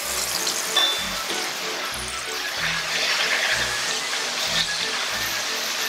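Lemon chicken slices deep-fry in hot oil, a steady, broadband hiss and bubbling that continues without pause at moderate volume, close by.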